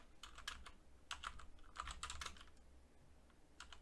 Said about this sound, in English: I'm literally typing this.